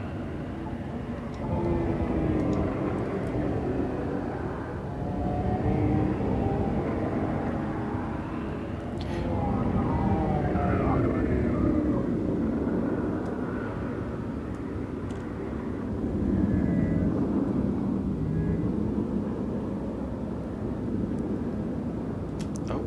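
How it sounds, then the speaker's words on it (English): Spaceship side lateral thrusters firing in Elite: Dangerous, a low rumbling roar that surges and eases in long waves, steady and full under a hum with no talk. "just use our side lateral thrusters to orientate ourselves a bit better"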